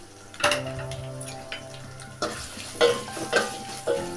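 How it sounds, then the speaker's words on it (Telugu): Chopped onion pieces frying in hot oil as a tempering for lentil soup, a steady close sizzle broken by several sharper bursts of stirring and spatula scrapes against the pan, with no voices. "ఉల్లిపాయ ముక్కలు కొంచెం వేగాలి పప్పుచారులోకి."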